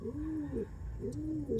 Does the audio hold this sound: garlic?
no